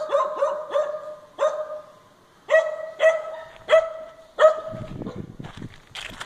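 Dogs at Ennu Pisey Pagoda on Koh Dach Island near Phnom Penh, Cambodia, let out a series of sharp, close barks, a quick cluster first and then single spaced barks, ending in a rustling, muffled scuffle.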